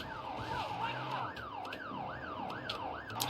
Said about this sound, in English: You put a siren on, they'll stay still.